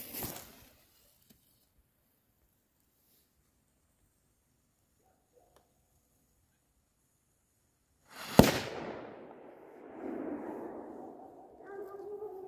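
A Funkenschlag 3 firecracker bursts with one loud, sharp bang, followed by a hissing, crackling fizz that fades over several seconds in an otherwise quiet outdoor setting.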